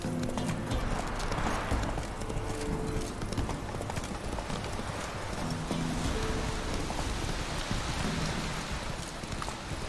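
Hooves of the horse Roach clip-clopping at a steady pace in The Witcher III, with a continuous rain-like wash of ambient noise throughout and no talking.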